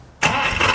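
A fully restored BMW 507 engine cranks and catches, bursting from quiet into a loud, steady running roar, heard close.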